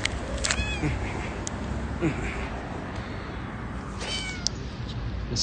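A cat meows a few times, short and fairly close, amid noisy background rumble and people talking.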